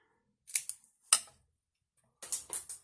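Scissors cut a small paper strip in a quiet room, a few short crisp snips in two close clusters with silence between them.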